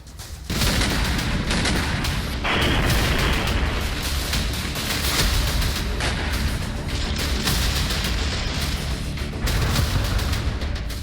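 Dense, continuous barrage of explosions and gunfire shaking Chernihiv, Ukraine during a bombardment, loud booms and cracks overlapping without pause, close and chaotic, with no talk.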